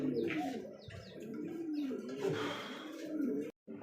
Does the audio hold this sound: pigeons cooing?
yes